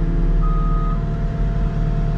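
A vehicle fitted with a backup camera gives a single clear reversing beep lasting about half a second over a steady, loud engine rumble.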